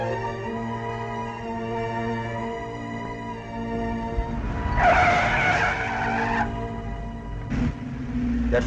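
A sports car careers carelessly into an intersection in a 1946 film, its tires shrieking in a loud skid over a droning engine and orchestral music.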